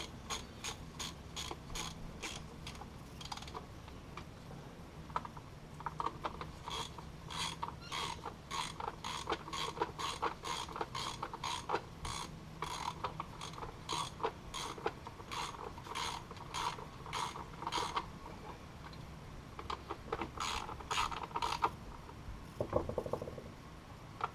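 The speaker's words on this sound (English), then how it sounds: "So we'll just finish up tightening up this flywheel cover." A hand ratchet clicks in quick rhythmic bursts while tightening the flywheel cover of a two-stroke outboard motor. The sharp ticking is close and fairly quiet, running in repeated strokes with brief pauses.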